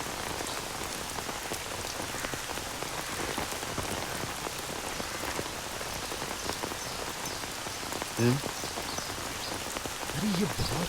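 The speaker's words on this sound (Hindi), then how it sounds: "अरे ये बहुत तेज बारिश हो रही है।" Heavy rain pours steadily onto surfaces, a dense, loud hiss of countless drops filling the whole stretch without pause, with a couple of faint brief vocal or croaking sounds near the end.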